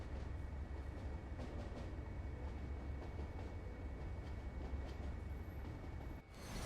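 In the Train Sim World 5 video game, two Class 37 diesel locomotives haul a steel train, giving a continuous low rumble and rolling rail noise at a moderate, even level.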